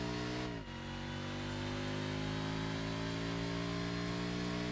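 In Forza Motorsport, a car engine and turbocharger drone from inside the cabin, with a brief dip as the revs drop, then a steady whining hum holding at a constant pitch, moderately quiet.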